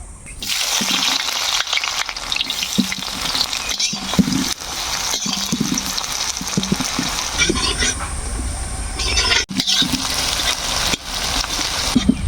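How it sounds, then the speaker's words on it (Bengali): Chopped onions sizzle in hot mustard oil in a pan, a steady loud hiss and crackle that runs the whole time with small pops and spits, close by. "আমরা কিন্তু পেঁয়াজগুলো বেশ খানিক্ষণ ধরে লাল লাল করে ভাজি"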